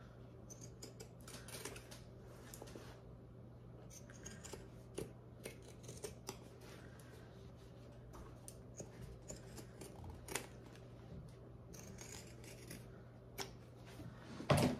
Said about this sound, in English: bit of pinking shears around the curve